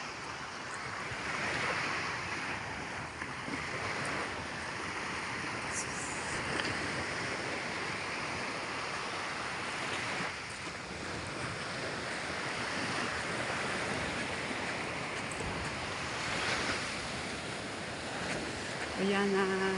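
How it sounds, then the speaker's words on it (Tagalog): Surf and waves on an open sea wash steadily throughout, broadband and continuous, with gusts of wind buffeting the microphone; a boat is out on the water. "Ang dagat. Maganda ang dagat."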